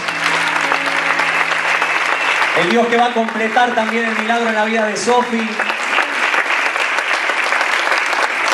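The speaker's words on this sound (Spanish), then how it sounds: "Ponete de pie, ese aplauso fuerte a nuestro Dios que hace milagros." A church congregation applauds loudly and steadily throughout, while someone speaks over the clapping in the middle.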